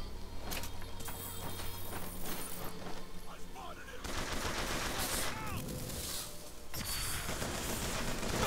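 Sustained gunfire and combat noise in BioShock Infinite, dense overlapping shots and mechanical clatter beneath busy game sound and music, with a voice talking over the action throughout.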